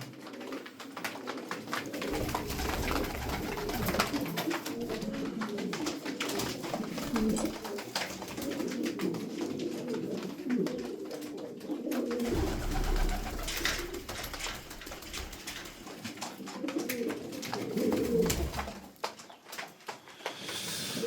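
A group of Adana pigeons cooing steadily and close by, overlapping soft throaty calls repeating throughout with wing and movement noises mixed in.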